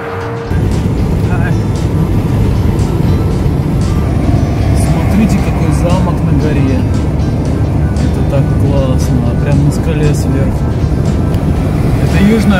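Car travelling along a road in northern France while hitchhiking toward Lyon, a loud continuous rumble of engine and tyre noise inside the vehicle, with a voice speaking over it.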